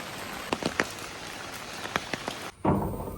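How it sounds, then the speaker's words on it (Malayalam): Rain drums steadily on surfaces outdoors, a constant wash with scattered sharper drop hits and a brief lull before the downpour surges louder again. "5 മിനിറ്റ് കൂടുമ്പോൾ മഴയാണ്."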